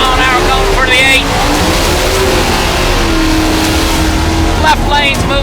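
Drag race cars, including a Ford Mustang, launching at an NMCA All Star Nationals event, loud engines roaring and droning close by while an announcer talks throughout over the noise.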